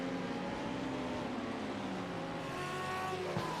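Race cars circle a simulated Phillip Island track in a GT-series racing game, a BMW closing on a Ford; several engines drone and whine together, pitch sliding as the cars accelerate, with faint tire squeal near the end.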